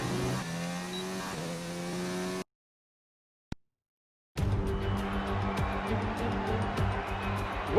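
Formula One cars in a racing video game at the Spielberg circuit: a loud, sustained engine whine drops out into a sudden silence with one tick, then resumes just as loud and steady.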